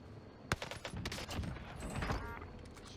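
Owen submachine gun with a precision barrel firing in a video game, sharp shots in quick bursts ringing out over about three seconds, loud and close with a rattling tail.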